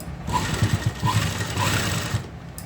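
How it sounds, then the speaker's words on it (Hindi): A sewing machine stitches along the edge of a kurti in a steady, close whirring run with a few brief pauses, close by and moderately loud. "ऊपर से मैं इसके ऊपर सिलाई लगाऊंगी बिल्कुल यहाँ पर किनारे पर।"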